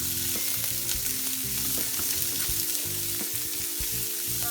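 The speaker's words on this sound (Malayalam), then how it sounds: "ചെറുതായി ചോപ്പ് ചെയ്ത് വെച്ചിരിക്കുന്ന ഒരു സവാള അത് ചേർത്ത് കൊടുക്കാം" Chopped onion frying in oil for chilli gobi makes a loud, constant sizzle close by, with faint stirring beneath it and no voices.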